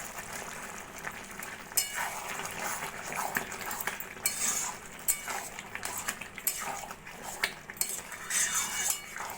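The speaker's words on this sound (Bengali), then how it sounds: "গরম মশলার গুঁড়োটা ভালো করে তরকারির সঙ্গে মিশিয়ে নেব।" A spoon stirs garam masala powder into a potato and potol (pointed gourd) curry in a pan, with quiet, irregular scraping and light clinks against the metal.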